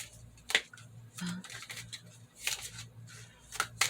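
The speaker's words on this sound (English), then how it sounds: "So I'm going to go ahead and shuffle some of these for us to finish up our reading." Tarot affirmation cards are shuffled in several short riffling bursts with brief pauses between, close and crisp, and no one speaks.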